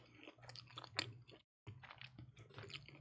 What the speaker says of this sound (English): I'm chewing.